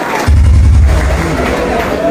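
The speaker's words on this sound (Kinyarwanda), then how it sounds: "Amashyi menshi cyane kuri Mudenge" An audience at a live comedy show in Huye, Rwanda, bursts into loud applause and cheering after a brief quiet moment, and the roar holds steady to the end.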